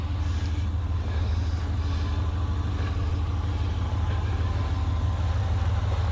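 Rented Hemi 5.7 1500 pickup truck engine idling, a steady low rumble held evenly throughout with no talk.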